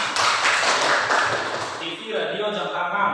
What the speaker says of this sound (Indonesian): Iya, berikan tepuk tangan.